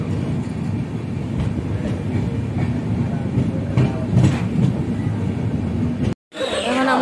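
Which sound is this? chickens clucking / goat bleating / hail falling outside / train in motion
train in motion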